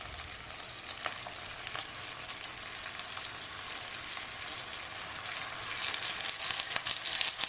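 Washed chicken pieces frying in a pan, a faint continuous sizzle with crackling pops that grows slightly louder toward the end, no voices.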